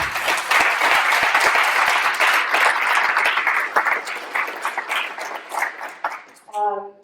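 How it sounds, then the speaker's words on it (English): An audience at a closing session of a conference applauds loudly, a dense steady roar of many hands clapping that thins out toward the end, with a short tonal chime at the finish. "let's give it a round of applause"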